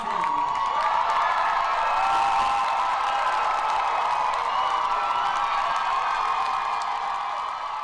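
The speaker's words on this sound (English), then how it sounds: "Students erupted in thunderous applause." Graduation ceremony crowd at Columbia University School of General Studies breaking into sustained applause and cheering, a dense continuous roar of clapping with whoops that holds steady at full loudness throughout.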